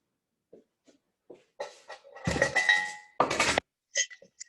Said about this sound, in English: so I'm going to cut the tarts